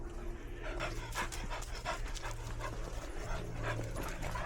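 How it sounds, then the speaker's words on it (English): A dog panting and barking while running on a walk outdoors, with steady breathy panting throughout and short vocal bursts scattered across it, close to the microphone, no talking. "She has to just bark as she runs."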